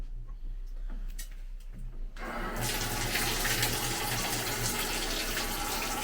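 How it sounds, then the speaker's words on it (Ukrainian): A tap is turned on to fill a bathtub, starting after about two seconds as a loud, steady rushing and splashing of water that continues close and unbroken to the end. "Сейчас мы набираем воду в ванную"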